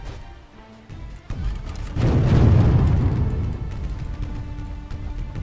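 Cannon fire in the naval video game Windward, a loud booming blast that swells around the two-second mark and rumbles on over a low continuous background, with a faint earlier thump.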